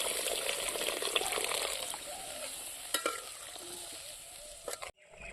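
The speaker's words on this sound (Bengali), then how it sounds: "আমার আলু আর মশলাগুলো দেখুন কষানো হয়ে গেছে এখন আমি জল দেবো" Water pours into a pan of potatoes and spices that have been sautéed for a fish curry, bringing a burst of sizzling and stirring that fades quieter, ending with a few clinks of a utensil.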